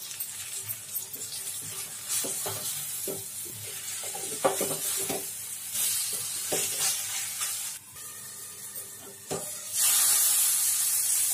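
Capsicum and egg curry in a pan is stirred with repeated scraping strokes over a constant sizzle, and a louder hissing burst comes near the end.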